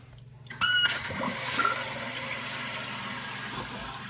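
Toilet tank refilling after its water supply is turned back on following a tune-up repair, a steady rushing hiss of water that starts abruptly and runs on loud and close, with no talk.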